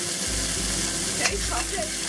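Beef searing in a hot wok, a loud, dense, continuous sizzle heard close up, with a brief scrape partway through.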